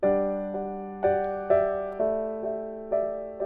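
A sustained chord with an added fifth is struck and re-struck about every half second, tones ringing and decaying between attacks.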